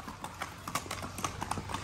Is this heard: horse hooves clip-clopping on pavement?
yes